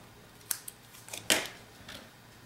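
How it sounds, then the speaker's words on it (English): Scissors trim the edges of paper for a handmade baby congratulations card: a few quick, crisp snips, close by and fairly quiet, with a pause between cuts and no talking. "cut off the edges like this."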